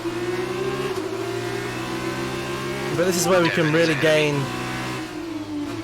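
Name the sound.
racing car engine revving in F1 2019 video game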